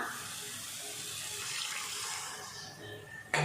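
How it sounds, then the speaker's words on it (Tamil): Tamarind water pours steadily into fish curry masala for a kola fish kuzhambu, a continuous close splashing trickle that runs for a few seconds before a sharper clatter at the end. "அதுக்கப்புறமா புளி தண்ணி சேர்த்துக்கலாம்."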